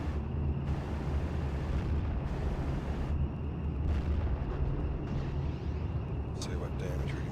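Missiles launching and bursting in the WWII strategy game Steel Division 44, a dense continuous rumble of blasts and booms that sits under ongoing talk throughout.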